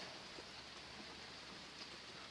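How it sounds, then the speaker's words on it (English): Rain falls steadily outdoors, a faint, even hiss of drops landing on surfaces that continues without a break. "Yes, it is raining."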